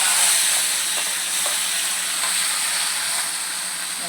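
Boiled onion frying in hot oil gives a broad, steady hiss and sizzle, close and fairly loud, with faint stirring clicks and no voices.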